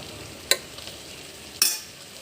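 Chicken pieces are dropped into a pan for biryani in two sharp sizzling bursts, each fading out, over a faint background hiss, close and without talk.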